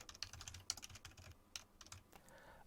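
Typing a page title on a computer keyboard: quick, light, irregular key clicks in a close, quiet burst lasting a couple of seconds, with no one talking.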